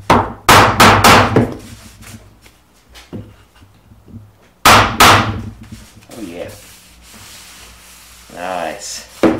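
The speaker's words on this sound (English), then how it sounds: "now I'll just tap it back down" Sharp hammer taps land on a wooden end table piece, tapping it back down in a farmhouse DIY build, with two clusters of loud close knocks separated by quieter pauses and some brief talk.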